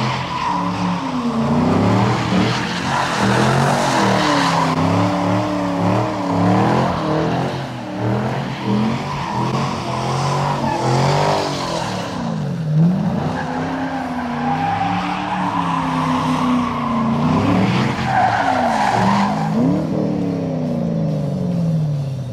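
A hot rod car driven hard, with a continuous engine drone and repeated long tire squeals and skids rising and falling over more than twenty seconds, loud and close, no talk.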